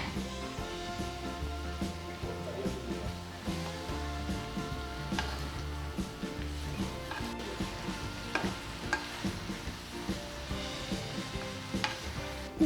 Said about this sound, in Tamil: க்ளீன் பண்ணி வச்சுருந்த கருவாடை இப்போ வெங்காயத்து கூட போடுறோம்.